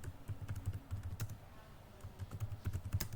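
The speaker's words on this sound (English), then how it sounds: "We want to go to next line by pressing enter key." Computer keyboard keys being pressed, including the enter key, while working through Selenium keyboard actions in Python; a run of soft, quick clicks and taps at an uneven rhythm, with a short pause in the middle, close by and quiet.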